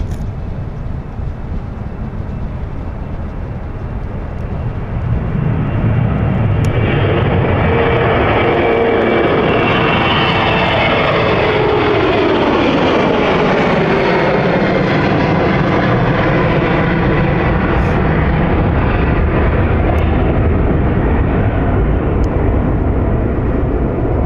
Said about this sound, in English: Edinburgh flight taking off here